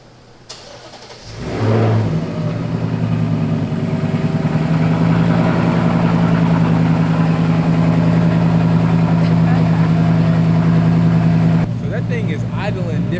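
A 2024 Mustang GT V8 with a Whipple supercharger cranks and fires up, then settles into a loud, rumbling idle with a steady throaty drone, close by.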